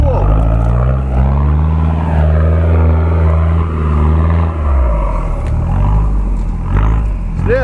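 Off-road truck engine at full throttle on a steep descent, a loud deep droning roar that holds steady, then drops off near the end, with voices talking over it.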